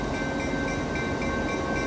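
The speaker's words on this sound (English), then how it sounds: "This is that train that always drives me insane" A train rumbles past close to a workshop, a steady broadband roar with a faint rhythmic clatter throughout.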